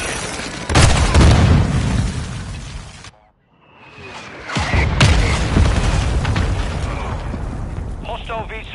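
Mortar strike explosions in the video game Modern Warfare 2, loud booming blasts with a brief gap of near silence, then more heavy bursts and debris under gunfire and battle noise.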